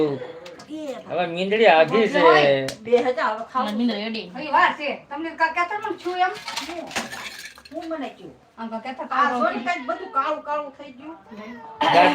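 A cat meows repeatedly amid lively overlapping talk, its cries mixed into the busy chatter.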